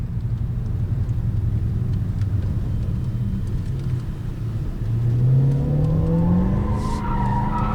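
A car drives fast on a Ford test track, its engine a steady loud rumble that climbs in pitch as it accelerates partway through, with tyre and road noise throughout and no talking.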